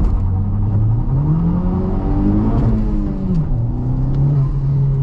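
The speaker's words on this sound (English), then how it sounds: "I want to launch the car, not very brutally with launch control" A Honda Civic Type R FK8 launches on a wet road using launch control, its engine note rising and sliding in pitch as it pulls away, loud and steady with no talking over it.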